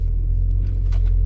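Steady low rumble inside a moving car with a mother at the wheel, a constant near drone under faint light rattles, nobody speaking.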